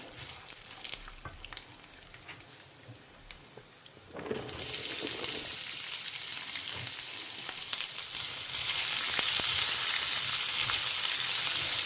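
Bitter gourd frying with dried red chillies and garlic in a pan, a soft sizzle that swells into a loud, steady crackling hiss about four seconds in and grows more intense toward the end, with no voices.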